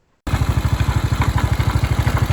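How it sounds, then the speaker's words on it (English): A moped engine on a road runs roughly, close and loud, its uneven rapid chugging pulsing after a brief silent start, with a rattly clatter riding on the beat. "This moped is running like a bag of bones."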